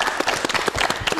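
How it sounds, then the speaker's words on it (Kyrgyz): A studio audience on a Kyrgyz television show clapping, a brief burst of uneven, fairly close hand claps over a faint murmur. "Кол чаап коёлу"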